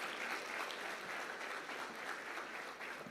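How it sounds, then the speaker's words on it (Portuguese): A church congregation at an anniversary conference applauds steadily, a dense wash of many hands clapping throughout at moderate level with no voices standing out. "Vamos aplaudir a Deus"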